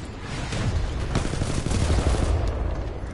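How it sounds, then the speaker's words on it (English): Heavy, sustained video game gunfire in Titanfall 2 with rapid bursts and booms, loud and continuous like a battle, with no talking. "There's so much gunfire"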